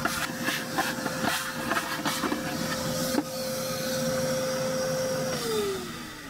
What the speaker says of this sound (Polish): Także zmiana, ale najpierw odkurzanie.